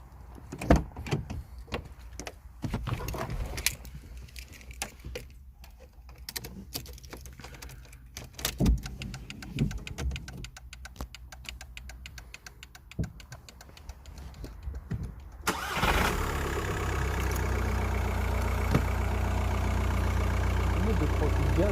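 A Volkswagen Golf 4 with a 1.9 TDI diesel engine cranks and catches after a stretch of key and cabin handling noises, then settles into a steady, loud, continuous idle rumble to the end.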